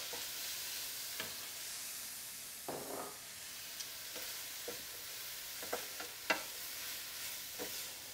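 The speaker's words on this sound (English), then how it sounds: "Now I'm going to add my chopped tomato" Chopped tomato stirred into a hot chicken chickpea curry pan with no liquid added, giving a steady close sizzle with scraping stirs and a few sharp spatula knocks throughout, no talking.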